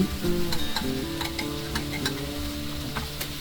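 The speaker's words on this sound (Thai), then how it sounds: "เราก็จะผัดคลุกเคล้าให้เข้ากัน" Onion and sweet peppers stir-fried in a pan, with a soft sizzle and repeated scraping and clinking of a utensil against the metal.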